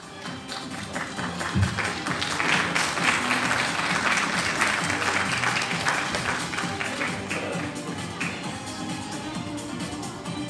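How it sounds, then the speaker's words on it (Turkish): Sustained applause from an audience at a children's school graduation ceremony, steady clapping that swells and then holds throughout without any speech over it. "Ve son olarak Asel Zeynep Uçan alkışlarla geliyor."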